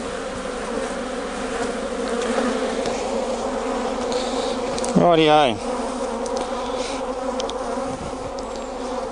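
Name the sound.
honey bees buzzing in an opened Langstroth hive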